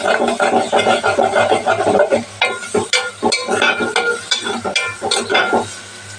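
Onion pieces and other vegetables fry in oil in a pan for a brinjal, tomato and egg curry, a steady close sizzle broken by repeated stirring scrapes and spatula knocks, with no talking.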